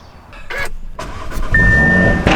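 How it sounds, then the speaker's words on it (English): An Audi RS3 engine fires up after a few sharp clicks and a starter whir, then settles into a loud, steady idle with a rising whine and a final abrupt pop near the end, close and without speech. "I might need to get rid of the crackle on startup"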